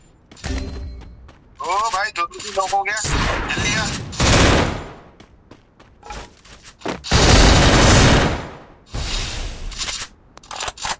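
Gunfire in a mobile shooting video game, several loud bursts of shots and booms spread across the stretch, interleaved with game effects and someone talking excitedly over the action.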